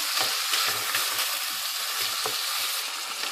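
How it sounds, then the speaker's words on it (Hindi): Chicken frying with garam masala spices in a pan, a continuous close sizzle with scattered crackling pops, no voices over it. "अब इसको थोड़ा सा मैं भूनती हूँ"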